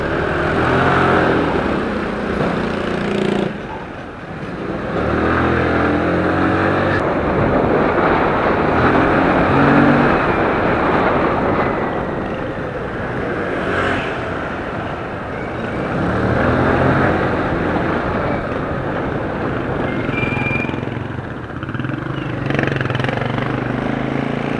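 A motorcycle rides along winding roads out of a subdivision in Parañaque, its engine drone and wind rush steady and loud throughout, with no talking.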